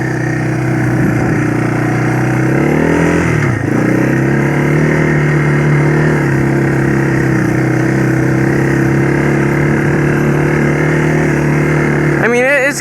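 Yamaha YTM225 three-wheeler with a 5-speed semi-automatic, its engine running close by in a steady idle, with a brief rev partway through and a sharp rattle near the end.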